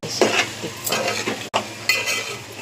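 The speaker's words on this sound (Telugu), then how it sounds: "తర్వాత మళ్ళీ ఫ్రై అవ్వాలి." Chicken fries in a pan with coriander and curry leaves, loud crackling sizzle broken by repeated stirring scrapes of a utensil against the pan, close and without voices.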